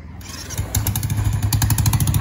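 A motorcycle being started outdoors in a hill village, a brief starter whir then the engine catching into a close, loud, rapidly pulsing idle.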